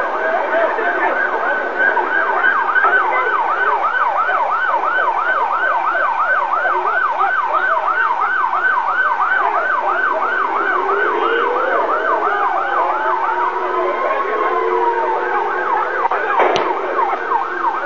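Emergency vehicle sirens from an ambulance and a fire truck: a loud, rapid warbling siren runs continuously, a slower wail rises and falls beneath it midway, and a brief thump lands near the end.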